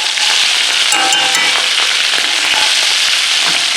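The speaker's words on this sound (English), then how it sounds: "Mash them into that oil and butter real good." Anchovies being mashed with a fork into sizzling oil and butter in a pan, a loud, dense, continuous crackle and spatter close up, with faint scraping taps and no talking.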